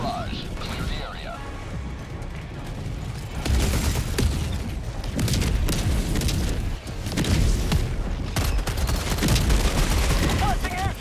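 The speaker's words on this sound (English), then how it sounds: "Firing orbital barrage." An orbital barrage in Helldivers 2 on Super Helldive difficulty pounds the area: dense rolling booms and rattling gunfire build to a sustained roar after a few seconds. The explosions are loud and near, with game voice callouts mixed in.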